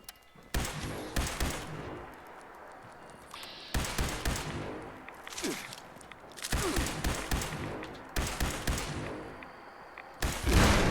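Laser rifle fire in the video game Fallout 76 comes in loud, rapid bursts of repeated shots, separated by brief pauses and lingering echoes, with quieter rumbling between volleys.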